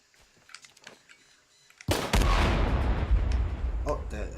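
Gunfire from the video game Shadow of the Tomb Raider: quiet faint clicks and rustles, then a sudden loud burst of rapid shots and booming blasts that keeps rumbling up close to the end.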